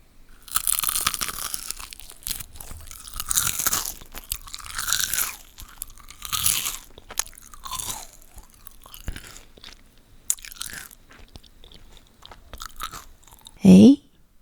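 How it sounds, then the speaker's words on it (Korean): Crunchy bites of BHC Potato King fried chicken eaten close to the microphone, a run of sharp, loud crunches and chewing in irregular bursts with pauses between, followed by one brief louder thump near the end. "ASMR BHC 포테킹 후라이드입니다. 먹어보겠습니다."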